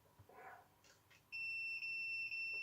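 After a few faint clicks and taps, a continuity tester testing a fuse in a Technika 32-inch TV lets out a steady, high-pitched electronic beep, held for over a second.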